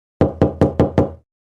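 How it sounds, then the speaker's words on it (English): Five sharp, evenly spaced knocks on a wooden door, close and loud, with a quick steady rhythm and nothing else around them. "Suddenly there is a knock at the door."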